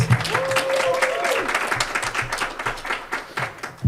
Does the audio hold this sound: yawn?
no